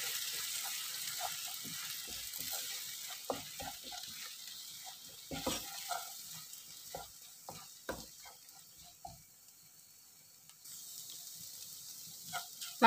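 Eggs with a pinch of salt stirred in a pan for egg Maggi noodles, a steady run of light scraping and clicking taps with a faint sizzle underneath, no talking.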